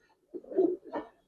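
Heracle pigeons cooing close by, a soft throaty two-part coo with a longer rolling note followed by a shorter one, against near silence.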